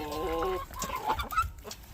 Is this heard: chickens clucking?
yes